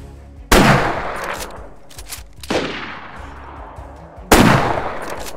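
Three loud, sharp gunshots from the video game DayZ, each a sudden blast with a long decaying tail, spaced about two seconds apart with quiet background between them.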